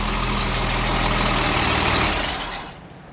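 A 1969 Mercedes-Benz 280 SL engine runs at a steady idle close by, then cuts off and fades to quiet near the end.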